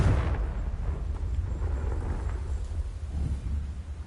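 Confringo blasting spell going off in Hogwarts Legacy, a deep rumbling explosion with a sharp onset that rolls on as a heavy low boom for several seconds, loud and close, no talking.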